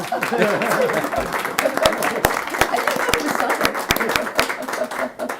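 A crowd at a library board of trustees meeting applauds, scattered claps rising into steady clapping, with voices murmuring underneath.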